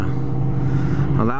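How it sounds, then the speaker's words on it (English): A loud truck rumbles past a rider on a GW250 motorcycle, a close, steady low engine drone with a voice talking over it near the end. "a loud truck"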